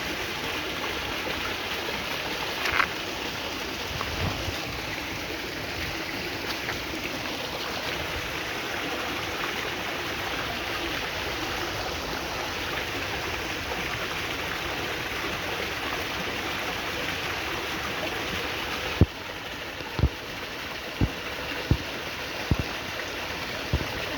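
A flowing stream at Joes River in St. Joseph, Barbados, rushing steadily and close, with a few sharp clicks and knocks near the end.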